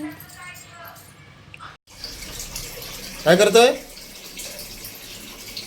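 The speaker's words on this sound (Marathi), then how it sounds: "गुड बॉय पाणी भरतोय" Water runs steadily from a tap, a constant rushing splash with a short spoken phrase partway through.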